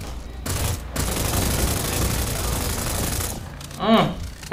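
Sustained automatic gunfire in Free City, an open-world shooting game, roaring steadily for several seconds before a sharp louder shot near the end, with a faint voice underneath.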